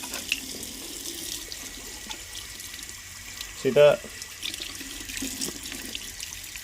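Water rushes in a short burst through a brand-new steam boiler pigtail tube, a brief splashy gush midway through over a quiet background, with a few spoken words.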